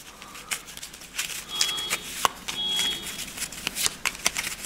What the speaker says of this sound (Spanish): Y vamos a barajar un poco más estas cartas.